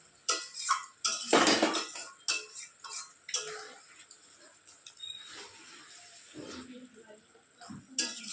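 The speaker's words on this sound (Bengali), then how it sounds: "দিয়ে একটু নেড়ে চেড়ে দিচ্ছি।" A spoon stirs fried taki fish in a thin curry in a metal pan, making irregular clinks, scrapes and knocks against the pan, close by, with quieter gaps and light background sounds in between.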